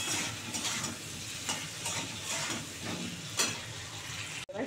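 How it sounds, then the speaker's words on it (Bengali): Cauliflower and potatoes fry in a pan with a continuous, moderately quiet sizzle. Periodic stirring scrapes and spatula strokes cut through it, ending with a sharp knock. "এবার ফুলকপিগুলো দিয়ে দিচ্ছি এর মধ্যে, দিয়ে ভালো করে ভেজে নেবো ফুলকপিগুলো।"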